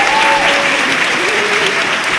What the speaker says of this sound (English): Please applaud our wonderful,